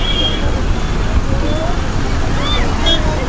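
Road traffic rumbles outside a moving bus on a route from Tenali to Kothuru Lanka. A steady low roar fills the clip, with scattered faint voices and a few brief high squeals.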